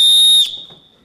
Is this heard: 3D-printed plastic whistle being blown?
yes